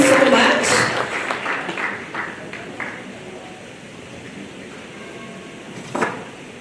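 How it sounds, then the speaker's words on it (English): Audience at a workshop clapping for a speaker: a burst of applause that fades over a few seconds, followed by quiet room noise and a brief sharp sound near the end. "So let's all clap for Mr. Sebastian as he joins us."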